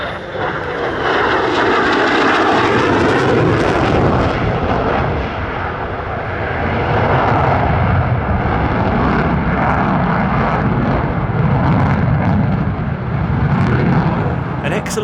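Military fighter jet roaring past at an airshow in Illawarra, a steady, loud, broad engine rumble holding for about fifteen seconds with slight swells, no talk heard.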